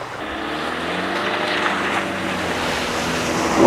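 An off-road vehicle charges through a deep water crossing on a New Zealand outback track, giving a steady loud rush of sloshing, splashing water over a low engine drone, building slightly toward the end.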